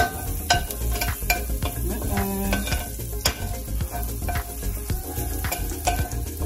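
Garlic sautéing in a pan ahead of shrimp for an Alfredo pasta, a steady close sizzle with frequent utensil scrapes and clicks against the pan, no voices.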